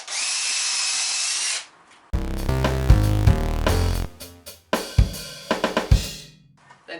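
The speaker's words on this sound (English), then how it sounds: "So when you go through the wood with your drill bit, you don't want to blunten the tip of the drill bit on your concrete floor." A power drill bores through wood in a garage, first a steady high whine, then a louder loaded grinding as the bit bites, ending in short stuttering bursts as it breaks through.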